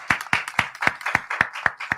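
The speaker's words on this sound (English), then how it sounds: "Let's give them a round of applause." Eight crisp, evenly spaced claps ring out close by after a panel discussion, a single steady rhythm rather than a full crowd's applause.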